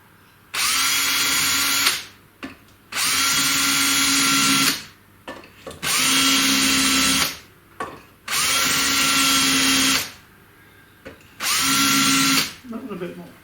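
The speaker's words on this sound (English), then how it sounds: "I'm just marking it with a 5mm drill." A power drill with a 5mm bit whirs in five long bursts separated by brief pauses, loud and close, with small clicks between runs.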